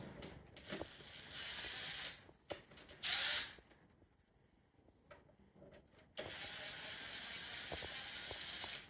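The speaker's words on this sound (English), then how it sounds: "So first we start by removing the faceplate on here, and it's just 2 simple screws." A power driver whirs in short bursts, unscrewing the two faceplate screws of a Gainsborough Trilock door lock, with quieter mechanical clicks and handling in between.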